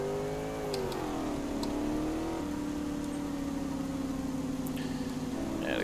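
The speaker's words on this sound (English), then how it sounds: "Thank God this server doesn't destroy your engine for redlining." Car engine in the DayZ video game held at high revs near redline, a steady loud whining drone that dips slightly and then holds, with no talking.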